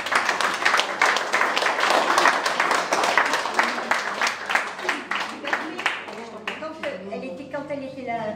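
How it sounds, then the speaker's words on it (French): An audience applauds in a room hung with tempera paintings, a steady dense clapping for about six seconds that thins out, with voices taking over near the end. "on peut l'applaudir même si elle n'est pas avec nous"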